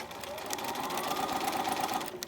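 A sewing machine stitches a Wiscomb fabric sample in a steady, continuous whirring run, close and clear, easing off at the end.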